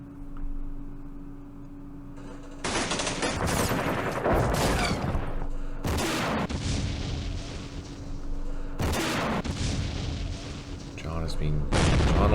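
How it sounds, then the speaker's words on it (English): Mortar rounds land in the war game Campaign Series Middle East: a run of loud, heavy booms and crashing bursts, some long and rumbling, with short quieter gaps between impacts. "Oh, there's mortars there."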